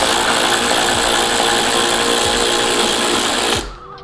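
A power driver whirs steadily as it backs Torx 27 screws out of a fuel tank, a loud continuous motor drone that cuts off near the end.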